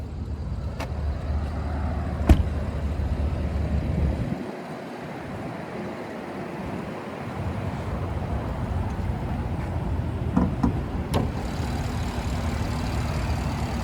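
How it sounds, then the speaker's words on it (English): The 5-liter V8 of a 2021 Genesis G90 AWD idles with its hood open, giving a steady low rumble that briefly softens, with a few sharp clicks over the hum. "And there's that 5-liter V8."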